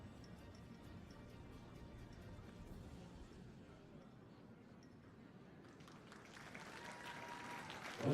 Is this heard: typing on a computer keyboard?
no